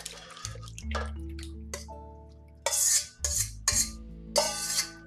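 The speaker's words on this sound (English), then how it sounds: "we're going to drain the buttermilk off of the pickles now" Buttermilk drains off pickle chips in a home kitchen with faint dripping and pouring, broken by several louder clatters of utensils or dishes.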